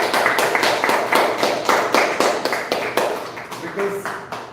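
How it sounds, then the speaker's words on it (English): An audience claps for event organizers in a steady run of separate handclaps across the whole stretch, fairly close and dense, fading slightly toward the end. "So let us give a loud, big round of applause to all the organizers of the Transdimensions."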